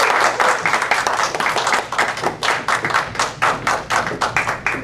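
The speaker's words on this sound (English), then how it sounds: "give a big round of applause as we welcome to the stage the improvisers" Live audience at an improv show applauds to welcome the improvisers onstage, loud, close clapping with a pulsing, almost rhythmic beat that holds steady throughout.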